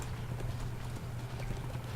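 Horse hooves clip-clopping in the video game Darksiders 2, a steady quick run of hoofbeats, close and continuous with no talk.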